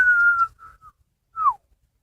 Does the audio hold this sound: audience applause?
no